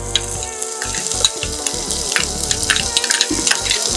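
Green chillies and onion frying in a pan for bisi bele bath, a close crackling sizzle broken by frequent clinks and scrapes of a spoon stirring against the pan.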